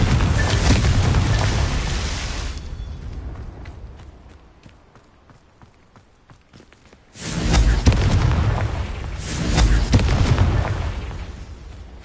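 The Confringo blasting spell explodes in Hogwarts Legacy, two loud booming bursts with rumbling tails separated by a quieter gap with faint clicks.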